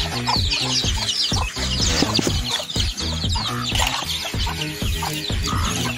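A flock of about thirty chickens cluck and squabble busily while being fed rice in a rural yard, dense overlapping calls near and loud throughout, with a crow or two mixed in.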